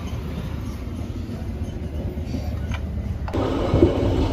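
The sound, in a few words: Sri Tanjung economy train departing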